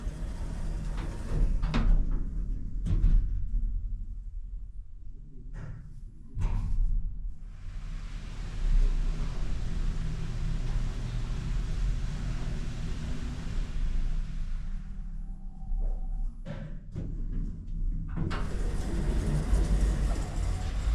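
A KOLMAN ELQ passenger lift in a residential complex rides up to the third floor: doors clunk and slide shut, then a steady, smooth hum and rush of travel, followed by a thud and the doors opening again.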